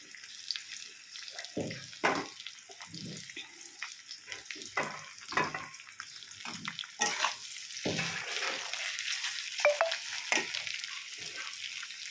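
Potato slices fry in oil with a steady, close crackling sizzle, punctuated by intermittent stirring and clatter from the pan throughout.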